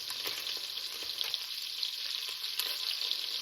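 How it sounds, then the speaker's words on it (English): Beef sears in hot oil in a pan, a steady, close, dense sizzle and crackle with occasional small pops running the whole time without pause. "Basically, I'm just getting a sear on it."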